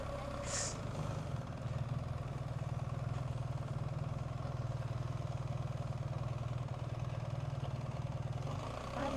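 Motorcycles idle outside a roadside tavern in Serbia, a steady low engine rumble heard from a moderate distance, fairly faint and continuous throughout with no talking.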